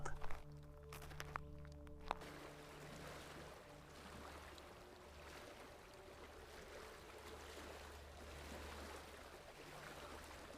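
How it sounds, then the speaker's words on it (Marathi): Water from a small forest spring runs over little stones beside a ghat road, a steady broadband rush with no voices and a low hum beneath it. "छोट्या छोट्या दगडातून वाहणारे पाण्याचे झरे लक्ष वेधून घेतात"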